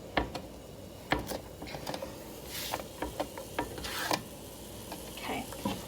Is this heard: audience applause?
no